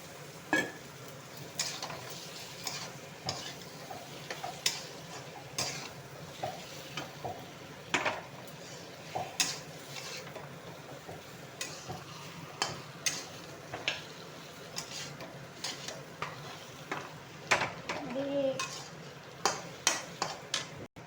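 Fried eggplant being stirred with spices in a pan while cooking a Bengali eggplant curry: a quiet, steady sizzle broken by frequent sharp clicks and scrapes of a spoon against the pan, close by and without speech.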